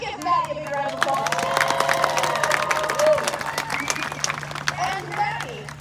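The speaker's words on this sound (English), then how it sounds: "Give Maddie a big round of applause." A crowd at a Renaissance Faire pirate weekend show claps and cheers loudly for an apprentice, with dense applause, shouts and children's voices mixed throughout the short burst.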